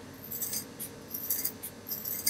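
Scissors cut through thick felt in a quick series of crisp, close snips, several in a row with brief pauses between, and no talking.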